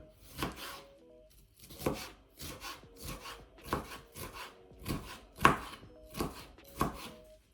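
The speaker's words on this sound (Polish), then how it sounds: "Tak więc papryka w drobną kostkę." A knife dices bell pepper on a cutting board, with about eleven crisp, evenly spaced chops at a steady rhythm, close and clear, with no talking.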